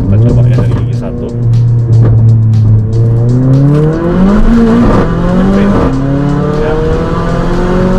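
Mercedes GLA45 AMG accelerating hard from first gear, engine note climbing through rising revs with gear changes, loud and close from inside the cabin, with a brief spoken word.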